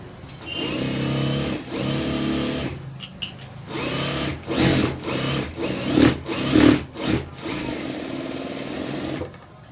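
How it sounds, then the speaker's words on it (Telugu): Sewing machine top-stitching fabric, a close mechanical whirring run in bursts of several seconds separated by short pauses, with no talk. "చూడండి ఇలా కుట్టుకున్న తర్వాత దీన్ని మరలా పై కుట్టు అనేది వేసేసుకోవాలన్నమాట"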